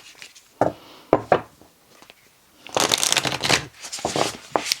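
A deck of tarot-style energy cards is shuffled and drawn during a reading: several short crisp riffling bursts, then a denser stretch of shuffling, close and fairly loud with no talk over it.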